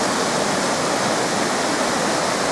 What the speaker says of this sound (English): we just got to an epic waterfall